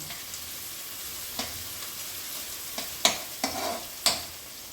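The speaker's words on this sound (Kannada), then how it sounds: "ಫಸ್ಟ್ ಈರುಳ್ಳಿ ಫ್ರೈ ಆಗಬೇಕು." Onion frying in a pan, a low steady sizzle broken by several sharp spatula scrapes and clinks against the pan, close and without talk.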